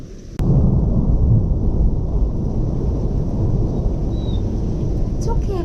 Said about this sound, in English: The thunder is just like echoing through the valley.